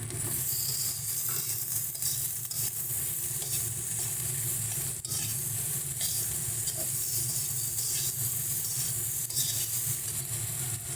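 Boiled potatoes added to hot oil in a pan for a fish-roe fritter and potato curry, giving a loud, continuous sizzle and frying hiss, close by, with occasional stirring scrapes underneath.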